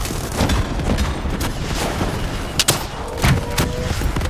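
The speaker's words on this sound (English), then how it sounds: "Focus fire!" Gunfire from the video game Call of Duty Black Ops 3 rattles in dense overlapping bursts and sharp cracks over a busy battle background, with a few louder shots standing out and no voices.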